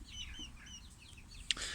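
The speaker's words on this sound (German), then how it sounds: "Da ist er, das ist der Gockel da." A large rooster with a pea comb clucks and calls in short repeated bursts in a farmyard chicken run, close by, with a sharper squawk near the end over steady low background noise.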